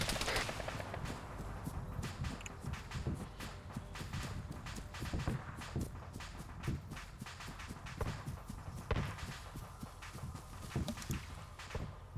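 Dense gunfire in the video game Halo, rapid repeated shots crackling steadily throughout, fairly close and loud, with no talking over it.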